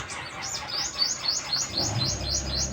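Young pigeons in a loft chirp in rapid, repeated high begging calls while being fed by the father, with soft cooing and shuffling underneath; steady and close, no talking.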